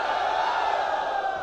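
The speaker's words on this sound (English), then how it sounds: "I want to hear the loudest cheer that we can have" A hackathon audience cheers and shouts loudly on cue after a countdown, a dense sustained roar of many voices with whoops, steady and close throughout.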